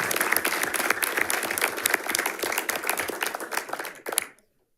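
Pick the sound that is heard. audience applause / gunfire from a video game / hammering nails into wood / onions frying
audience applause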